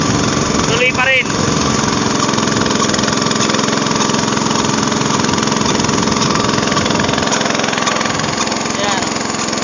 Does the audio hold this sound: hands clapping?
no